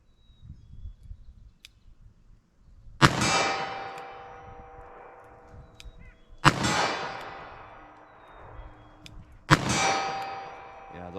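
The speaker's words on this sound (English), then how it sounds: "Just gonna slow fire with our 38 special" .38 Special revolver slow-fired at a target 25 yards away, three loud sharp reports spaced a few seconds apart, each ringing with a metallic clang that decays slowly; faint background noise between shots.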